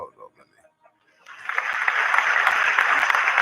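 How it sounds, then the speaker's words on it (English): Round of applause sound effect: a crowd clapping bursts in after a short stretch of quiet talk and holds steady and loud to the end. "Gotta give you a round of applause"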